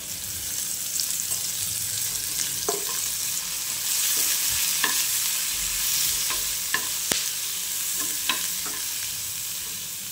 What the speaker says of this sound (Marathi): आपले कांदे हे छान ब्राउन होत आहे